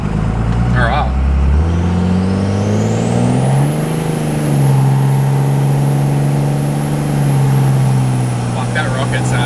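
A Cummins-powered Ram pickup fitted with big injectors accelerates hard with some wheel spin, its loud, close diesel roar climbing steadily in pitch, then holding a high turbo whine while the engine pulls.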